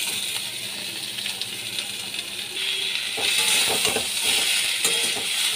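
Taro stolons (loti) fry with shrimp in a pan, giving a steady, close sizzling hiss. Scattered clinks and scrapes of stirring grow busier toward the end.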